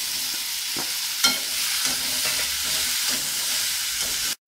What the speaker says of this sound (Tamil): வெங்காயம் தக்காளி நல்லா வதங்கிட்டு இப்போ காயையும் சேர்த்து போடுறோம்.